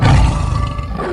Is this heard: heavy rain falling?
no